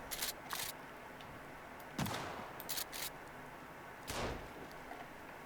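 A shotgun fired into the air in a hard survival video game, a few sharp blasts spaced well apart over a steady low ambient bed, with no talking.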